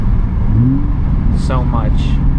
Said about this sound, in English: With that supercharger on the Z, it sounds nothing like a VQ.